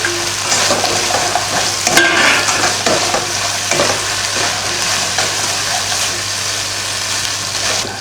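Chicken 65 with chilli frying in a pan, giving a steady loud sizzle with scraping, clattering stirs breaking through now and then, and no talking.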